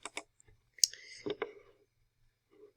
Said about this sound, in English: I'm going to click Open Resource